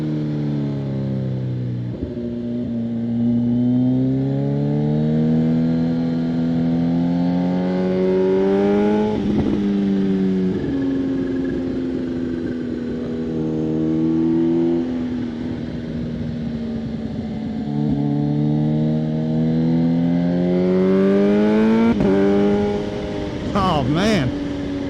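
A Kawasaki ZH2 motorcycle engine is held in third gear while riding, its close, loud tone rising and falling in long pitch sweeps with each throttle change, over steady wind rush.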